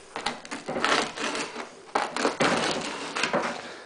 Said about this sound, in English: Now I'm just going to cut the bread up.